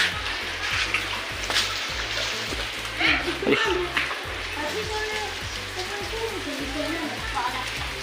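Steady heavy rain hisses and patters on a surface, with a low rhythmic rumble running underneath throughout.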